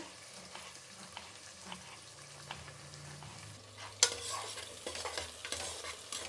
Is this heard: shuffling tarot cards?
no